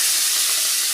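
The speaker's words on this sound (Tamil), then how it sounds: "முட்டை பொடி மாசுக்கு எண்ணெய் ஊற்றி காஞ்சதும் கருவேப்பிலை போட்டு" Curry leaves hit hot oil for egg podimas and give a loud, close, continuous crackling sizzle and hiss with no voices.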